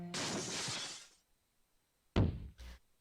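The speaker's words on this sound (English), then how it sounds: "a loud crash breaks the silence as a cannonball the size of my fist smashes through the window" A cannonball the size of a fist smashes through a window in the video game Code: Realize, a sharp glass-shattering crash that trails off over about a second, followed after a pause by two heavy thuds.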